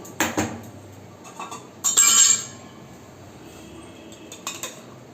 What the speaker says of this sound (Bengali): আমি কড়াইটা বসিয়ে দিলাম